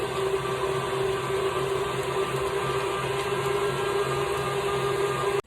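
An electric mixer whips icing with added vanilla, giving a steady, continuous close motor whir with a constant tone that cuts off abruptly at the end.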